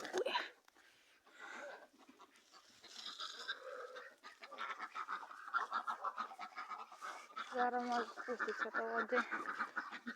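A grey duck quacks repeatedly in a farmyard among other fowl, the calls loud and close and mixed with people talking over them.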